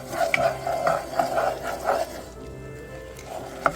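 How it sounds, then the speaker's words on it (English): A spoon stirs a flour roux for turkey gravy in a pan, making a steady run of rhythmic scraping strokes with a soft sizzle beneath. The strokes pause briefly near the end before a final sharp scrape. "I'm gonna just start mixing this together, and this is forming a roux"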